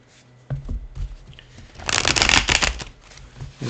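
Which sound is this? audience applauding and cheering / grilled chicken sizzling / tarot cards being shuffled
tarot cards being shuffled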